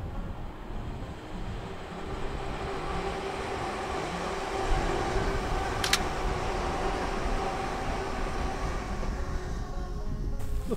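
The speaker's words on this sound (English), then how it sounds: "Now there's a train coming from Tinsley this way." A train coming from Tinsley rumbles past at sunset in a steady, sustained roar with a faint squeal partway through, moderately distant and filling the whole stretch without talk.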